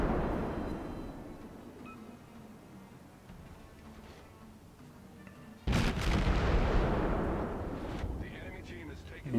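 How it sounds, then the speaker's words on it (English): A warship fires its guns in the naval game World of Warships, a heavy deep boom bursting out midway over a rumbling background and then slowly decaying. "So I'm going to engage him with guns."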